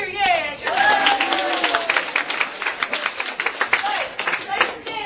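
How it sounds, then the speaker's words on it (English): A room of volunteers at a university food-packing event cheers and claps together in a rolling burst, with shouting voices rising over the applause and scattered claps continuing throughout. "And the whole room will cheer for you because that's an excellent bag of food."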